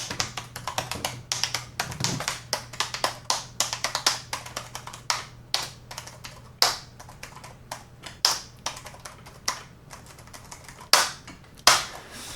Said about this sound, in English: Let me just type a little to show you the sound.